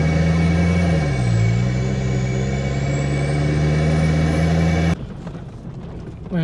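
A 4WD vehicle climbs a steep loose-rock track in Sunny Corner State Forest: a loud, steady engine drone shifts in pitch, then cuts to a quieter rumble with rattles and knocks.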